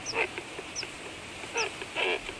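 Nesting herons and cormorants in a large wading bird colony among flooded oak groves, giving scattered harsh croaks and squawks at a distance over a steady background hum.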